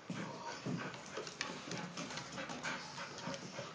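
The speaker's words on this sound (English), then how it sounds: "Gigi, what are you barking at, dude?" A cartoon dog in an Angry Birds episode yaps and pants in short, repeated bursts, fairly close and moderately loud.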